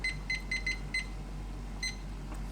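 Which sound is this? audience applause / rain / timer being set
timer being set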